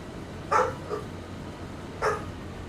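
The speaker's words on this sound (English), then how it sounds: "Sounds to me like two puppies ought to come in here." Two quick barks from puppies, spaced apart and moderately close, with a faint yip between them over a quiet hum, no voices.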